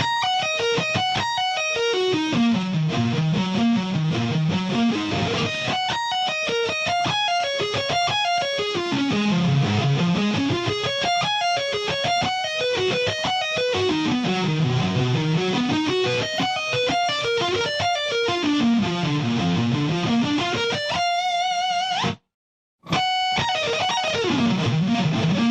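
Electric guitar playing slow sweep-picked arpeggios as a warm-up, repeated rising and falling patterns ringing out steadily with a distorted tone, a brief dropout near the end before the phrase resumes.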